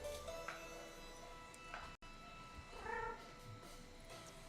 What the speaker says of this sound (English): I'm here for the cat meow sound.